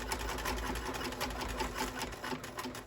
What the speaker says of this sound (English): I'm setting my stitch to a number 3 or a 3 stitch length, just so that it gets through all this fabric